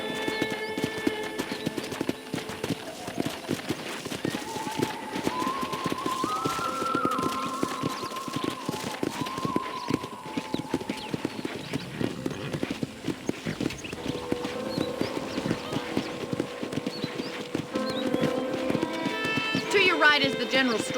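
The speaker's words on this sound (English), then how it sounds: "let's see if you can still ride a horse." Horse hooves clip-clop steadily on a ranch in the video game Red Dead Redemption, a continuous rhythmic trot with a horse whinnying and speech over game background sound.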